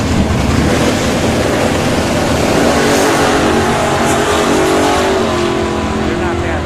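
Drag racing cars at an NHRA points bracket finale, a loud continuous engine roar mixed with heavy wind buffeting and crowd-like noise, dense and steady throughout.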